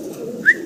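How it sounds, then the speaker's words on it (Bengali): A large pair of Andalusian-coloured pigeons gives one brief, clear call near the middle, over a steady low background hum. "ভিডিও স্ক্রিনে আমরা দেখতেছি অনেক বড় সড়ো বিশাল বিগ সাইজের ভিতরে এক জোড়া শৌকিং কবুতর"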